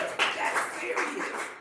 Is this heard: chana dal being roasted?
no